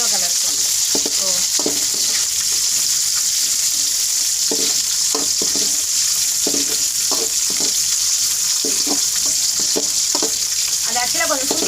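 Pirandai (adamant creeper) roasting in oil in a pan gives a steady, dense sizzle, broken by repeated scraping stirs of a spatula throughout; no one speaks.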